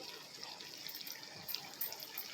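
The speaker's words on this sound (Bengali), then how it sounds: "কষানোটা প্রায় হয়ে গেছে, এবার জল দিয়ে দেবো।" Water poured into a cooking pan over a cooked-down curry base, a faint, steady gush of liquid lasting a couple of seconds with no one speaking.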